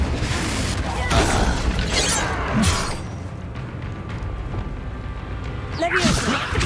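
Confringo fire spell blasts in the Hogwarts Legacy video game: several sharp, loud bursts with crackling, shattering tails over a busy game soundscape, and one final burst near the end.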